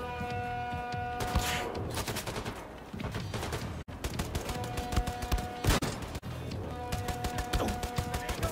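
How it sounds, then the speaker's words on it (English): Enemy gunfire in the video game Wolfenstein II: The New Colossus, dense rapid bursts and booms repeating loudly over a droning music bed. "Stop it. Stop shooting at me."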